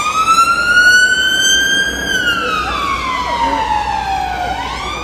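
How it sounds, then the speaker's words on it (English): A loud emergency siren wails, rising then sweeping down in a long slow tone over low traffic rumble, then climbing again. "I'm just gonna wait for the siren to go."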